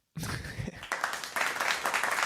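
A round of applause starts suddenly and keeps going as dense, steady clapping that grows a little fuller toward the end.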